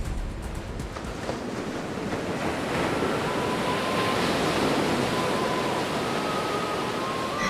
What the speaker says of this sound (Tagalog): Naririnig na nila noon ang hampas ng mga alon sa ibaba ng bundok na yun